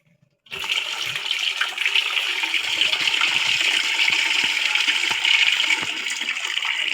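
Water pours steadily out of a bowl of freshly caught taki fish as it is drained, a continuous close splashing rush that starts suddenly after a brief quiet moment and runs to the end.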